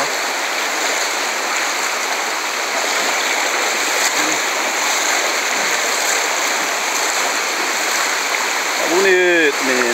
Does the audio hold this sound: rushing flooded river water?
yes